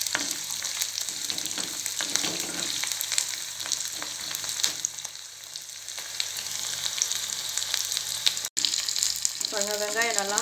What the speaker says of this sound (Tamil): வெங்காயம் நல்லா வதங்கி நல்லா தனித்தனியாக வந்துட்டுருக்கு.